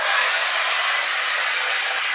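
A hair dryer blows with a steady, loud, high-pitched airy whoosh, running continuously without a break, drying camo paint on a holster.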